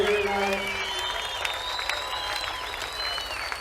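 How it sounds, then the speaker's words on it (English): At a King of the Cage fighting event, a crowd applauds after a cage fight bout. Steady, dense clapping and crowd noise continue throughout, fairly distant and moderately loud. "let's give a big round of applause for both of these King of the Cage warriors"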